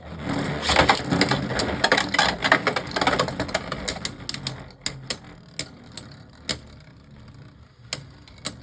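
Beyblade Burst spinning tops, a Takara Tomy Hypersphere and a Hasbro Ace Dragon, clash loudly in a plastic stadium, with dense rattling and scraping giving way to sparse, sharp clicks and knocks as the spin dies down.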